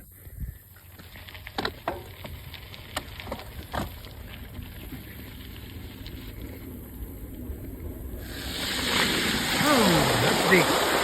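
A bicycle rolling along a Florida nature-preserve trail at evening, with faint clicks and bumps at first, then a loud, sustained rush and splashing of deep water as it crosses, the wheels submerged to the front axle.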